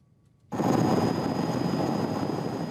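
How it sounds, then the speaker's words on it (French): A military helicopter over the Adrar des Iforas in Mali, with French soldiers, cuts in abruptly after a quiet moment and then holds a loud, steady rotor and engine roar. "L'hélicoptère est la cible favorite des insurgés."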